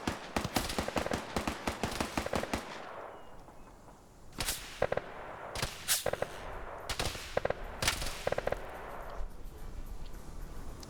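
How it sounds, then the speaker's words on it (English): Machine gun suppressive fire during a PvP video game match: rapid automatic bursts rattle loudly, then pause, then return as several further clustered volleys, with no talking. "the machine gun's getting good suppressive fire here"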